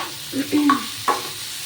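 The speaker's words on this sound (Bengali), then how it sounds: "আর এখানে দেখো পটলটা ভাজতে দিয়েছি" Pointed gourd (potol) pieces sizzle in a pan of oil while being stirred, with a low frying hiss under a few brief scraping and clinking stir sounds close by.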